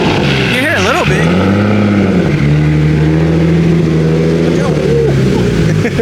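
A naturally aspirated BMW M3 engine drones loudly from inside the car, rising and falling in pitch as it revs, with wind and road noise and a voice talking over it.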